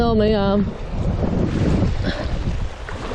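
Strong gusty wind on a fishing trip buffets the microphone with a steady low roar throughout, after a brief tonal sound at the start.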